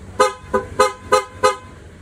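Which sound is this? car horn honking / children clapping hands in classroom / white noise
car horn honking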